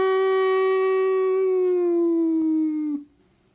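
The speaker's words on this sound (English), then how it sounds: "And then we have the howl." A dog gives a single long, steady howl that slowly drops in pitch and ends abruptly, close and clear, with nothing else heard.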